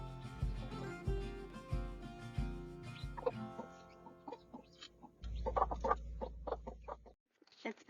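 Silkie hen clucking softly to her newly hatched, fluffy chicks, a run of close, repeated low clucks with faint higher cheeps mixed in.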